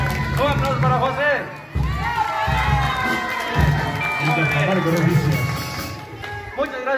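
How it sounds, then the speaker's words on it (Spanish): A crowd of children at a Christmas hot-chocolate party shouts and cheers in loud, continuous waves, with excited voices rising and falling and only a little clapping. "Un aplauso para José."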